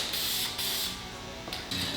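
Aerosol spray paint hissing in several short bursts onto Mazda 3 steering wheel accent trim, the final coat before clear coat, close and moderately loud with brief pauses between sprays.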